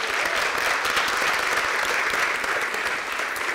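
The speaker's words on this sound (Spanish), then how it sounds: "un fuerte aplauso para las relaciones públicas" Steady, dense applause from a conference audience, loud and sustained throughout with no voices on top.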